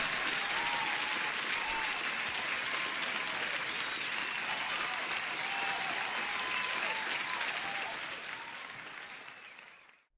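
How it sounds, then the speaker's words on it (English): Dense, steady applause from a crowd fills the whole stretch at an even level, then fades out over the last two seconds. "Let me give you an applause"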